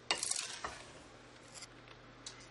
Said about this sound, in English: let's give the dry ingredients a stir